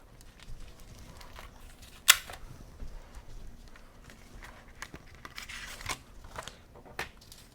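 Sheet of crafting foil handled at a table for a card and gift box project, soft crinkles and light taps with one sharp snap, faint and close, no talk.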